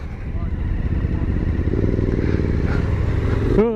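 A motorcycle engine labours loudly and continuously, climbing the very steep Hardknott Pass road in Cumbria, with a steady close drone and a rise in pitch at the end.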